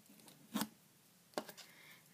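Quiet, close snicks and short scrapes of an X-Acto knife slicing through duct tape, two or three brief crisp cuts separated by near silence.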